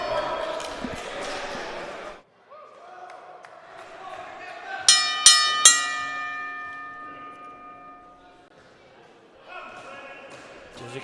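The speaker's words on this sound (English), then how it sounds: "Josie Contreras calling for the bell" A wrestling ring bell clangs several times in quick succession to open a live match, loud and ringing out over crowd noise and an announcer's commentary.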